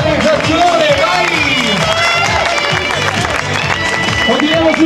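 Loud applause from the audience at a mega casting party in Scafati, mixed with dense crowd noise, cheering and music, with voices calling out over it throughout.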